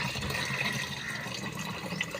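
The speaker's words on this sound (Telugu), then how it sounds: "4 లీటర్ల క్వాంటిటీ అనుకుంటున్నాం కాబట్టి 4 లీటర్లు పోసుకుంటాం." Water is poured into a sprayer for mixing neem oil, a steady gurgling, splashing fill that runs continuously at moderate level with no voices.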